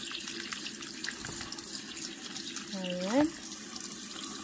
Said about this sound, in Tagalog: Hugasan natin siya uli para mawala yung mga scum niya.